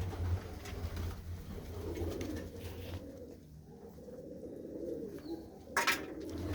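Pigeons kept in a village loft coo softly and intermittently against a quiet background, with a brief sharper sound near the end and no voices.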